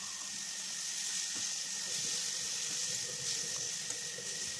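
Tomato and sweet potato chutney frying in oil with turmeric and salt, giving a steady soft sizzle that holds evenly throughout at moderate level with no talk.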